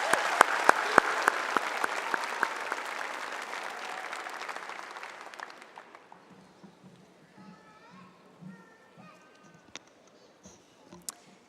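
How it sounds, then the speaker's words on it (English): Audience applause for graduating seniors at a high school graduation ceremony: sharp, close claps over a broad crowd roar that gradually fades to scattered clapping and quiet murmuring voices. "Let's give them one more round of applause for all of your accomplishments."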